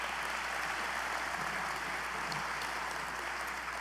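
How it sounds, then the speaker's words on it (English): Audience applause at an American Legion Riders national convention, a round given for police officers: steady, fairly faint clapping from a large crowd with a hum underneath, sustained throughout. "We're going to please give the police officers a round of applause."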